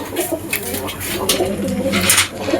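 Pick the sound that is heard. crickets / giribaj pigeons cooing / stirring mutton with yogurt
giribaj pigeons cooing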